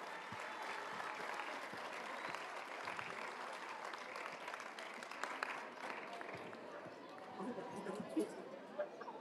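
Audience applause at a school event marking World Water Day, steady clapping from a crowd of students and officials filling the room, with a background murmur of chatter.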